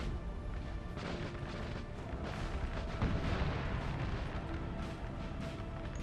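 Artillery fire in the Napoleon: Total War video game, a continuous rumble of distant booming cannon shots mixed with battle noise, steady throughout with no talking.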